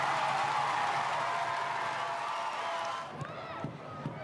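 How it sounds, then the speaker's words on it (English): A big Wednesday-night football crowd at Leichhardt Oval roars loudly and continuously in a sustained cheer after a goal, then drops back toward general murmur with scattered shouts and whistles near the end. "Crowd at Leichhardt Oval absolutely loving it."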